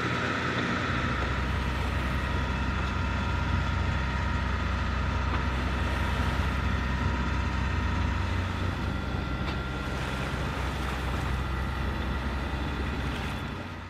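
A sailboat motoring west-northwest toward Oahu under engine power with the genoa out in light wind: a steady, droning engine hum blended with water and hull noise, continuous and fairly loud throughout, with no voices.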